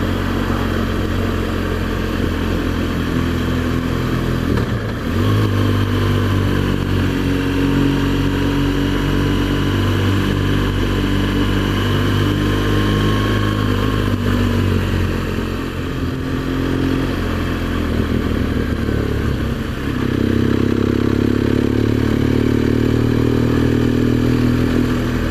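A BMW R1200GS motorcycle rides steadily through Cheddar Gorge, its engine droning continuously and loud with gentle rises and falls in pitch, a brief dip near five seconds and a fuller surge toward the end, no voices.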